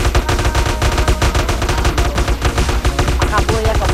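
Gunfire in GTA San Andreas Multiplayer, rapid bursts of loud, close automatic shots in a continuous rattling exchange, with a voice faintly underneath.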